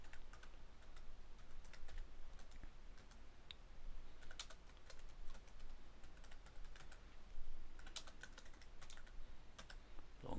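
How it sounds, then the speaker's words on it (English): Steady typing on a computer keyboard while entering a place search into a map application, with rapid clustered keystrokes running close and fairly quiet throughout, broken by brief pauses and no voices. "in the Google Maps search I will type in Long Cross"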